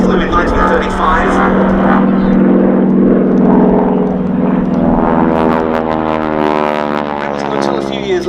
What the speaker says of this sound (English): One of the truly great training aeroplanes of all time, this.